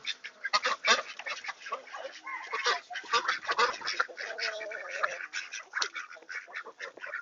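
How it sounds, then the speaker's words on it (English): Ducks quack in a busy, overlapping chorus at feeding time on a farm with chickens, loud, close, irregular bursts of nasal calls with brief pauses between. "Quack quacks."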